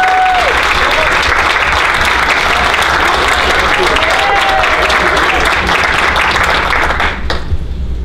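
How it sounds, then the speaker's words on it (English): Audience at a movie premiere claps for the makeup artists, a loud, sustained wash of many hands clapping for several seconds with faint tones beneath, dropping off briefly near the end. "a round of applause if the makeup artists are in the audience"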